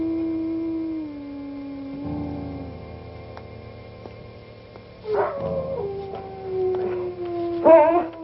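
A dog howls in long, wavering, drawn-out tones, several rising and falling howls close by, with whimpering yips toward the end.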